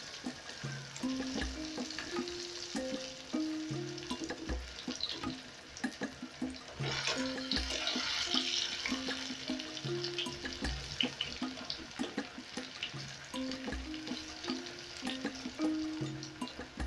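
Nduma shallow frying in a pan after being turned, giving a steady close sizzle that runs continuously and swells slightly midway, with no one speaking.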